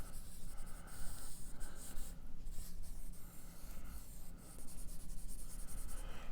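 Marker strokes scratch and squeak on a board in quick irregular bursts, close and faint, with soft breathing in the background.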